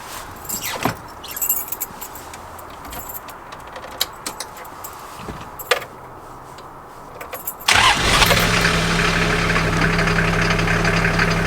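A Toyota Troopy engine cranks and fires up after a few seconds of small clicks and key rattles, then settles into a loud, steady, rumbling idle close by.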